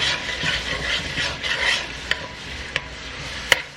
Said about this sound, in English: Just make sure you stir really good and make sure it's incorporated.